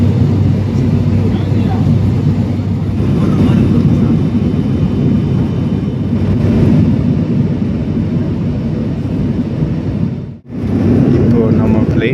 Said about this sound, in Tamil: ஃப்ளைட்டு மலை மேலே பறக்குதுங்க.